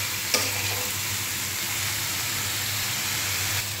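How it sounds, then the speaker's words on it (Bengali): Curry of pointed gourd, potato and shrimp frying in a pan, giving a steady, loud sizzle throughout with a single brief clack near the start. "এই তরকারিটা রান্না করবো আমি এই যে পুরল আর আলু দিয়ে, তার সাথে তো চিংড়ি মাছ থাকবেই।"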